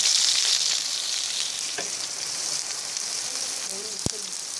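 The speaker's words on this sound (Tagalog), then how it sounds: "Naglagay tayo ng konting mantika. Unahin natin sa pagkikisa ay ang ating sibuyas." Onion sautéing in a little oil in a wok, a steady close sizzle with a faint hiss throughout, one sharp clack of a utensil near the end.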